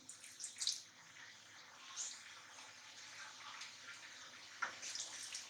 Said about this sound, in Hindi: ये पानी इसमें जा रहा है।